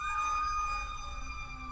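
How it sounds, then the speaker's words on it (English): An ambulance siren wails outside, a steady tonal sweep heard through walls over a low rumble of traffic, fairly loud and continuous for the whole moment. "And ambulance."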